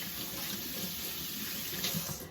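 Tap water runs steadily into a sink as soapy hands are rinsed during a baby back ribs cooking session, a close, continuous splashing hiss with no break.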